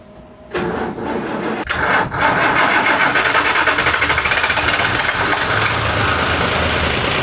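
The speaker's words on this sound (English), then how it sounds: "we're ready to turn the engine back on" A sailboat's engine, just overhauled, cranks briefly, then catches and settles into a steady, loud, chugging idle close by; no talking.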